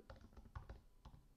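Fast typing on a computer keyboard while working in R Studio, a steady patter of close, soft key clicks with no talking.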